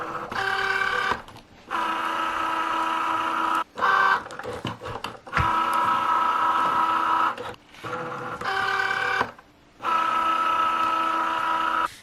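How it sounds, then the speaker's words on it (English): Cricut cutting machine working through everyday iron-on vinyl: repeated bursts of whirring motor drive and carriage movement, broken by short pauses and clicks, close and steady, with no voices. "We can just click everyday iron-on and insert it into the machine."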